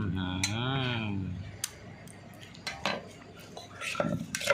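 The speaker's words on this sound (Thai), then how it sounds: "คนให้เข้ากันนะครับ" Thai shrimp paste chili dip with pea eggplants stirred in a bowl, heard as scattered light clinks and scrapes of a spoon after someone briefly speaks at the start.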